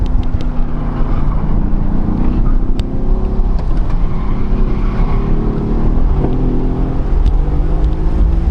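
A half-reassembled car lapping a race track at Speed Fun, its engine giving a continuous, loud droning hum that rises and falls slightly through the lap, heard from close by with no talking.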